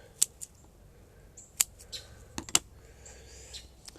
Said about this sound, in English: So we're going to cut that root off.